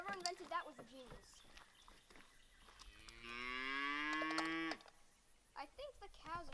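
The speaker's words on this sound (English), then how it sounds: "I think the cow's afraid of the smoke." A cow lows in a kitchen during a smoke-bomb experiment, one long drawn-out moo near the middle of the clip, between bursts of nearby talking.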